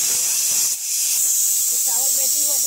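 A pressure cooker on the stove releases a loud, steady hiss of steam while cooking brown rice, a continuous close rush that briefly dips before resuming.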